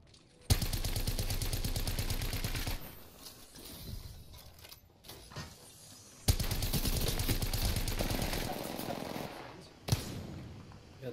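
Rapid automatic gunfire in the battle royale shooter Apex Legends, with two long, loud sustained bursts separated by quieter gaps holding scattered single shots and sharp impacts, ending in a short final volley.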